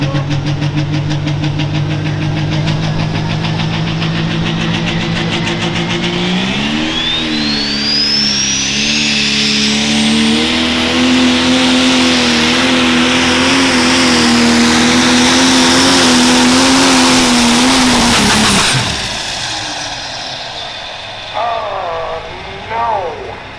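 Turbo pro stock pulling tractor roaring at full power on a pull track, a loud sustained engine note that steadies into a climbing howl with turbo whine, then cuts off abruptly near the end, leaving quieter crowd and engine noise.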